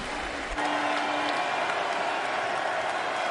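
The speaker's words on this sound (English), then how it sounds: "Crowd making some noise here at Everbank Field." Football crowd at Everbank Field in Jacksonville roaring and cheering in a broad, steady wash of noise, loud and sustained throughout, with a brief whistle-like tone near the start.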